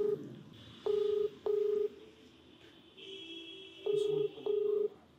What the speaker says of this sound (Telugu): ఒకసారి కాల్ చేద్దామండి.